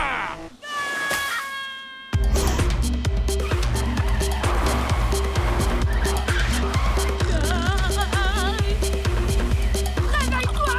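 A cartoon car skids around a racetrack, tires squealing in long wavering whines over a loud engine and upbeat music, after a brief faint hum at the start.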